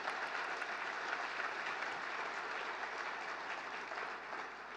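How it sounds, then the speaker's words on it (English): Audience applause at the 2015 CFL awards ceremony, a steady, dense wash of clapping from a large crowd that holds at an even level throughout, somewhat distant, with no talk. "Give them a round of applause, please."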